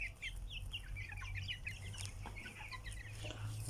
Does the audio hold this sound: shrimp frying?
no